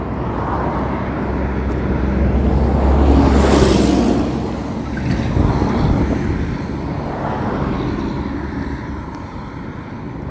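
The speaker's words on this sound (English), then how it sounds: "Oh, that truck is loud." A loud truck rumbles by on a road, swelling to a peak and then fading, with wind buffeting the microphone throughout.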